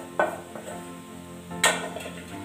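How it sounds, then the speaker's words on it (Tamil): A spoon scrapes through potato masala with onions and spices in a pan, giving two short, distinct scrapes and clinks over a quiet background. "அந்த அளவுக்கு நல்லா மிக்ஸ் பண்ணி விட்டுக்கோங்க."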